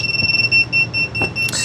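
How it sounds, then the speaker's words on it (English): A WingSmith drone beeper sounding a steady, continuous high-pitched tone while the drone waits for its controller to connect, close and loud with a few faint knocks beneath. "that beeping is just going to continue because it's telling you that it needs a connection to fly"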